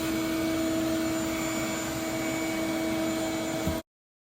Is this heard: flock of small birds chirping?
no